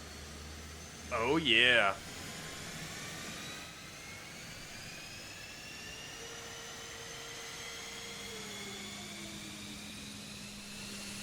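An F-15E Strike Eagle jet engine in a flight simulator game spools up with a steady, rising whine under a constant airy roar. Someone briefly speaks over it near the start.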